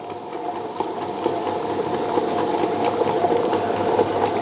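A smart wet grinder with its lid open grinds rice and urad dal into batter. It gives a steady mechanical whirring hum with a wet churning edge, running continuously and growing slightly louder.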